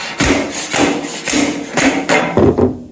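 A C channel post base being knocked into place with a hammer: about six loud, close, sharp knocks at a steady, fairly quick rhythm, the last ones closer together, then stopping.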